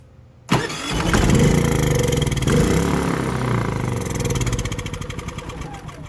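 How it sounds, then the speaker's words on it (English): A Harbor Freight Predator portable generator that would not start cranks and catches on a shot of ether starting fluid, then settles into a loud, steady engine run close by with no talk. "we know it will run if we give it something to drink that it likes, whether that's gasoline or starting fluid"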